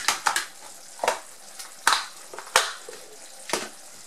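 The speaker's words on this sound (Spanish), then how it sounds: "Vamos a revolver." Cuban picadillo, seasoned ground meat with peas, is stirred in a pan, with repeated scraping strokes of a spoon against the metal over a light sizzle, loud and close with no talking.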